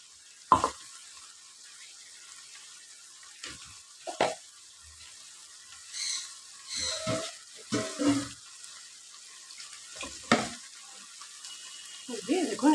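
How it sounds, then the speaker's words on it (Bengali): Ground spice paste for a potato and eggplant curry spits and sizzles in a hot pan, with sharp crackles and stirring scrapes coming in intermittent bursts over a low background. "সেই মশলাটা আমি পুরোটা ঢেলে দিলাম"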